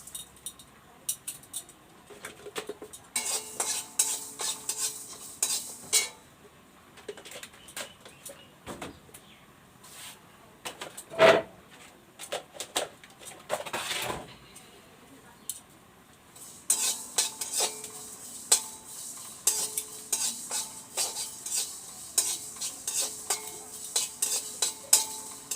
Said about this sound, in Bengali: কয়েকটা পাঁচফোড়ন ভেজে নেব শুকনো খোলা।